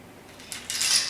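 A margarita is poured from a cocktail shaker into a glass, a soft hissing splash building in the last half-second after a couple of faint clinks.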